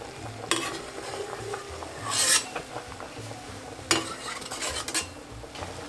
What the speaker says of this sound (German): Jetzt entsteht hier so ein Schaum und den müsst ihr vorsichtig mit einem Löffel entnehmen.